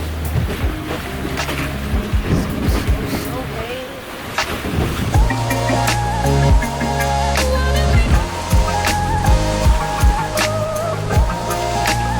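Sailboat underway on the open Pacific, with a steady broadband wash of wind and waves throughout, occasional louder surges and knocks, and tonal hum or creaking mixed in under faint voices in the background.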